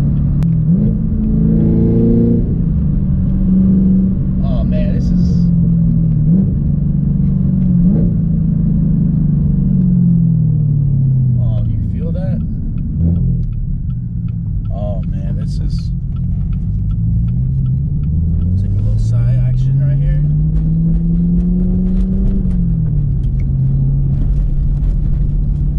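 A 2018 Chevrolet Camaro ZL1 1LE drives on city side streets, its engine rumbling low and rising and falling through several revs and gear changes, close and loud throughout.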